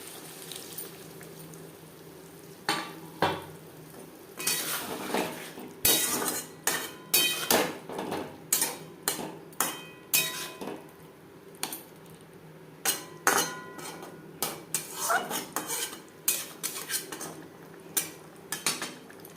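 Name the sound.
elephant foot yam and potato cooking with spices, stirred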